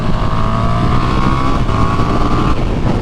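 A KTM 1290 Super Duke R sport motorcycle engine roars loudly and steadily at high revs, its pitch rising slightly then holding, close and continuous throughout.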